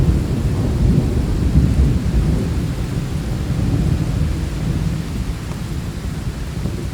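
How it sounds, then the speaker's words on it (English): A NatureSpace app thunderstorm called Thor: sustained low rumbling thunder mixed with dense falling rain, steady and full throughout before easing slightly toward the end, with no speech. "good clap of thunder"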